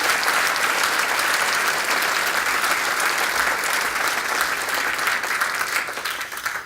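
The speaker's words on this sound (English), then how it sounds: "let's give them a round of applause" Steady, dense applause from a large audience at a city's State of the City address, sustained loud clapping throughout that begins to taper off at the very end.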